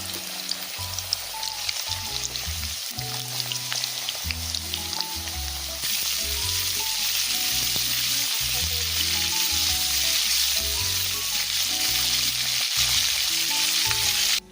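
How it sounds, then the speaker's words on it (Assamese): Potatoes and cauliflower frying in oil left over from frying fish, a steady close sizzle and crackle that grows denser partway through, with no talking. "এতিয়া মাছ ফ্ৰাই কৰা তেলখিনিতে মই আলুখিনি আৰু ফুলকবিখিনি ভাত ফ্ৰাই কৰি ল'ম।"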